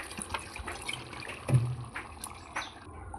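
Water is poured into a pot of chickpeas cooked with chicken mince, a faint trickling and splashing with a few soft knocks against the pot, quiet and close.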